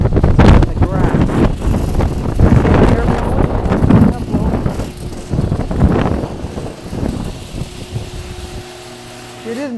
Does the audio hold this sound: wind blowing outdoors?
yes